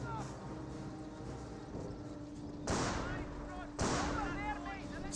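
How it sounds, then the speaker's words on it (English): Two sharp, loud shots ring out about a second apart in Company of Heroes, a World War II strategy game, over a low battlefield rumble while a commentator talks. "Sniper shots there."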